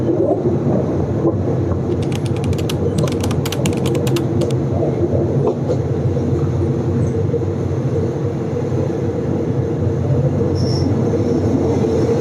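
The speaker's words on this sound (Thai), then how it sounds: "บ้านผมได้ยินเสียงรถไฟด้วยตอนนี้" A Thai passenger train, number 351, rumbles along steadily and close as it approaches Ratchaburi station, with a brief burst of rapid clicking wheel-on-rail sounds early on and a faint squeal later.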